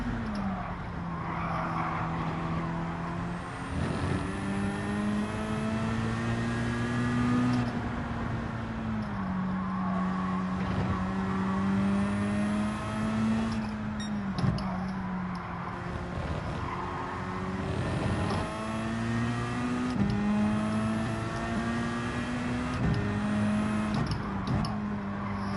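Race car engine in Gran Turismo 7 droning and rising through gears with repeated upshifts, a steady loud whine punctuated by brief dips, continuous throughout with no talking.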